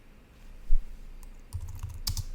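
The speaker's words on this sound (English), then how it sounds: "So I'm going to type in here node," A few quick keystrokes clack on a computer keyboard, sparse at first and then bunched into a short burst, close and moderately quiet.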